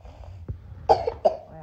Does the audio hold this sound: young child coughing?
yes